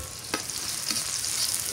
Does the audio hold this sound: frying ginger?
yes